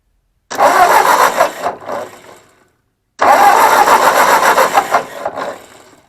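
An old Ford 641 Workmaster tractor found in a field cranks loudly in two attempts, each a couple of seconds long with a short pause between, and its engine catches roughly at the end of each try.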